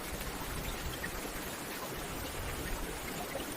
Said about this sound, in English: during this gentle rainstorm.